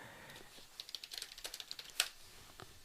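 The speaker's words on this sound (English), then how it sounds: "So if we go online here and I type in the Hat Man," Computer keyboard typing, a quick burst of light key clicks in an uneven rhythm, fairly faint and close, with one sharper keystroke near the end and no talking.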